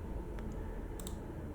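Mouse clicks while adjusting fan tuning in GPU tuning software for an RX 6800 undervolt, heard as a few faint, quick clicks over steady low hum, with no talk.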